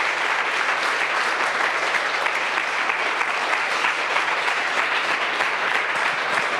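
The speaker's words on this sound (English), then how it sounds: "I think this deserves a great applause to you and your team" A conference audience gives loud, continuous applause, a thick, steady roar of many hands clapping with no break and no voices over it.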